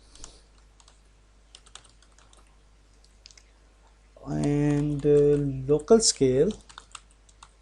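Faint, scattered keyboard clicks while code is typed for a mobile zombie game's touch controls, then someone speaks over the quiet tapping.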